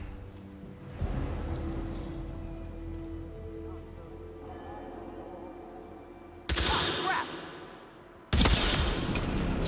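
Silenced pistol shots in the video game Hitman, heard as two sudden bursts about two seconds apart over a low ambient hum.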